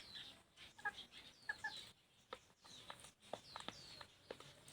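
Free-range bantam chickens, young hens just starting to lay in Bueng Kan, Thailand, cluck softly in short, scattered bursts, quiet and somewhat distant against a low outdoor background.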